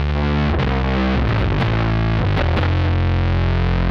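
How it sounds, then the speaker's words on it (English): A loud, heavily distorted bass guitar through a Tym Guitars Bass Black Mud fuzz pedal with distortion turned all the way up plays low fuzzy notes, a few sharp plucked attacks ringing into thick, saturated sustain. "While we've got the distortion turned all the way up"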